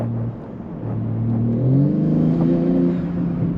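A modified 500hp BMW G80 M3 engine drones steadily up close, its deep rumble rising in pitch as the revs climb, with no talk.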